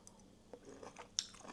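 Crunchy pickled beetroot cubes from a jar are chewed close up, with quiet irregular bites and a sharper crunch near the end, no talking.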